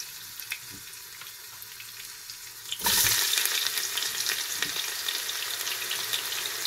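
Whole cinnamon, cloves, cardamom and bay leaf fry in oil for prawn biryani, a soft crackle that suddenly swells into a loud, steady hissing sizzle close by that continues to the end.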